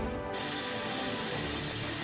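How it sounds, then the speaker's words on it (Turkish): Dexe hair thickening spray hisses from an aerosol can in one continuous, close, loud burst lasting a couple of seconds. "Dexe spreyi saçınızda kellik ve seyrelme olan bölgeye sadece sıkın ve tarayın"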